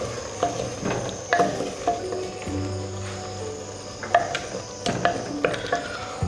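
Seven or eight finely chopped chillies sizzle in a hot pan of aloo qeema, a steady frying hiss with a few scrapes and clinks of a spoon, close by and with no talking.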